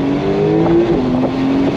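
Porsche 911 Turbo engine pulling hard under throttle, a steady loud drone with rising and shifting tonal lines as the turbocharged flat-six climbs through the revs, heard close from inside the car with no talking.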